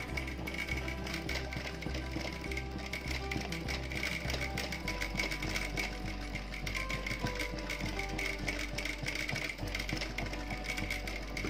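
A domestic sewing machine stitches aari embroidery while the frame is moved by hand, giving a continuous, fairly quiet mechanical whir with a steady rapid needle rhythm throughout.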